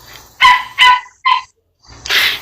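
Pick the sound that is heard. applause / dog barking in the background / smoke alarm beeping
dog barking in the background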